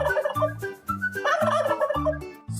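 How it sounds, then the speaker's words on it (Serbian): A turkey gobbles in rapid rippling bursts, loud and close, repeating several times without pause and with no talk over it. "A ćurka se oglašava."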